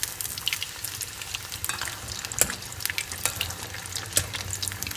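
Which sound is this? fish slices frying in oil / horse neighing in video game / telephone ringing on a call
fish slices frying in oil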